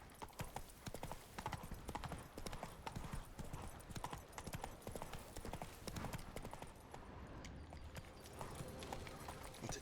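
A horse gallops in The Witcher 3 video game, its hooves giving a steady, rapid clip-clop that continues without a break, faint overall, with a voice briefly speaking over it.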